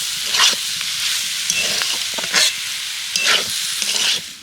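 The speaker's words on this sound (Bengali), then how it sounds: "একটু নেড়ে চেড়ে আমি এবার আলুর পুরটাকে নামিয়ে নেব।" Spiced potato filling being stirred as it fries in a pan, a loud sizzle with repeated scraping bursts of a spatula close by, no voices.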